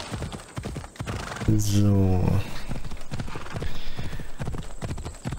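A horse neighs loudly, then hooves clip-clop in a steady rhythm as a rider sets off on horseback in Assassin's Creed Odyssey, with someone talking over the hoofbeats.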